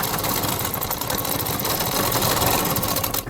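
A sewing machine stitches through doubled fabric with a half-inch margin, making a loud, continuous, steady mechanical whirr with a fast rattling pulse from start to finish and no voices.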